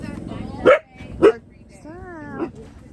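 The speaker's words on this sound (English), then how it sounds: "guard dog" A guard dog gives a few barks and a whine amid a busy outdoor event with many cars, the sharp barks close and loud over a background of chatter.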